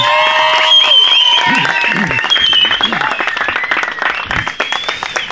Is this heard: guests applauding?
yes